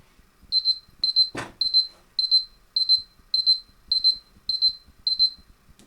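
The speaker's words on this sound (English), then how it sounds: "that's 5-minute timer" A 5-minute kitchen timer alarm rings in a steady run of about nine evenly spaced high electronic beeps, close and clear, with a single sharp clatter early on.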